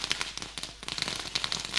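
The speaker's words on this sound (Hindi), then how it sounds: "अरे देखिए पटाखों की आतिशबाजी" Firecrackers and fireworks crackle and pop in a dense, continuous burst at a tennis-ball cricket match in Desai Gaon, with sharp irregular snaps spread across the clip at moderate distance.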